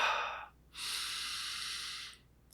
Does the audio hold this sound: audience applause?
no